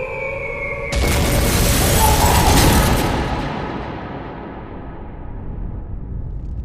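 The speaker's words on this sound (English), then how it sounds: "a parachute mine falls on a row of tenements, Adlington Street" A parachute mine explodes over a row of tenements on Adlington Street, Liverpool, in March 1941: a sudden heavy blast followed by a long roaring, crumbling rumble that slowly dies away.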